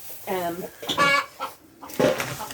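Chickens clucking in a coop, a few short close clucks and calls in separate bursts.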